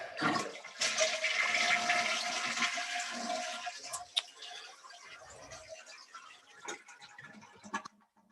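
Household toilet flushed after a tank gasket replacement, a loud rushing gush of draining water that tapers into gurgling refill and trickles, with small clicks, heard close up.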